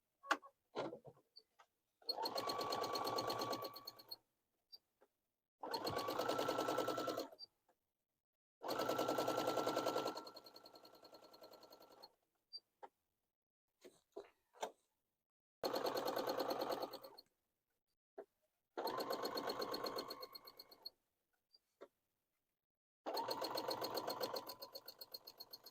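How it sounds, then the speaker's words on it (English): A sewing machine stitches appliqué with the feed dogs lowered, running in repeated bursts of two to three seconds separated by short pauses, close and clear with a steady rapid ticking rhythm. "move my needle to the center, lower the feed dogs, and I like to start down the side here"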